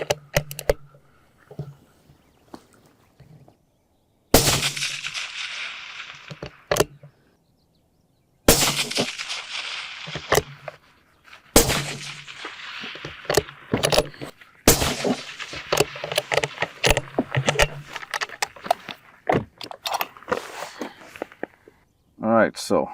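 Rifle shots ring out at 500-yard steel targets, a series of sharp loud cracks spaced unevenly across the span, with people talking between shots.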